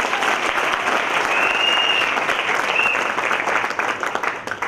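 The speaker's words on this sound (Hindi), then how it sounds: "ताली बजाओ।" An audience in Mumbai claps loudly and continuously, a dense, sustained wash of applause from a large crowd that tapers slightly at the end, with a brief whistle-like tone over it.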